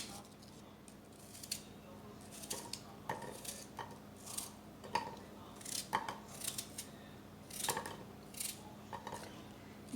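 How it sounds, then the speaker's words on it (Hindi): Apples being cut into small pieces for fruit chaat, a steady series of sharp knife taps and clicks on a board with faint kitchen clatter, fairly quiet and close, with no voice. "छोटे छोटे टुकड़ों में काट लेंगे।"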